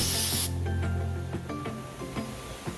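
A short burst of aerosol brake cleaner hisses loudly, then stops, followed by a few light clicks and taps close by.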